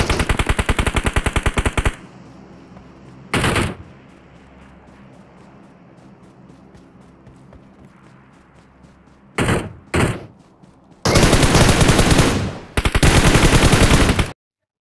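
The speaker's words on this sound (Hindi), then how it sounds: "लेकिन उतने में मुझे फायर आ जाता है।" Rapid automatic gunfire from PUBG Mobile: a long fast burst, a single short burst, then a quiet stretch with faint ambient hum, two quick bursts, and two long, loud sustained volleys near the end.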